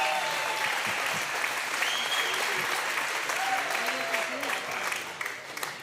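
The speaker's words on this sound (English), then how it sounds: "Big round of applause, guys and girls." Crowd applause and cheering for the winning pair after a Tuesday night match, a dense steady wash of clapping with whistles and shouts that carries through and thins slightly at the end.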